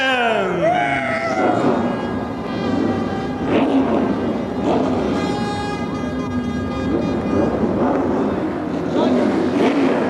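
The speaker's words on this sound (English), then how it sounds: "it is the fantastic sound of those glorious V8 engines firing up." Loud, dense roar of several V8 race car engines starting at Rockingham, revving and firing together, with rising pitch sweeps at the start and a sustained blaring drone throughout.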